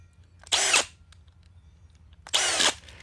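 A power drill gun drives screws into an electrical box during plug and switch installation, two short, loud, close whirring bursts separated by a quiet pause.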